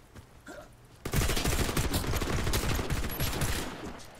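Sudden burst of rapid automatic gunfire in the shooter game Warface: Breakout, loud and sustained for about three seconds after a quieter opening.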